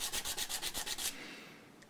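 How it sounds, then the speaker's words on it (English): Rapid back-and-forth rasps of sandpaper smoothing the overhang of a Tusq nut on an Epiphone EJ200 acoustic guitar, about nine quick strokes close up, then a fading scrape. "I can also sand down the overhang on the back here without cutting into the tusk"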